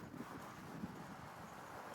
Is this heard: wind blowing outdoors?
yes